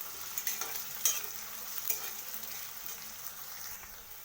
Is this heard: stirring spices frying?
yes